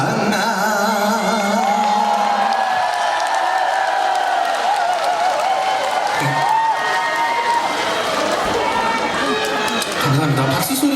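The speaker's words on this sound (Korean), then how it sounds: "박수 소리가 이거밖에 안 나오네" An outdoor audience at a Korean festival concert applauds and cheers in a steady, dense wash of clapping, with a sustained voice singing over it.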